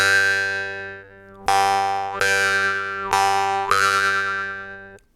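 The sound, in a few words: jaw harp playing a unison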